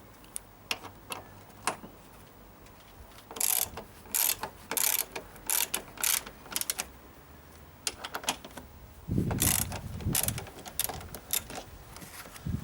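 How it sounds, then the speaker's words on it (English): Quick bursts of close ratchet clicking as a car's front shock absorber upper mounting bolt is loosened, the rapid clatter starting and stopping in short runs with pauses between. "Remove the first mounting bolt."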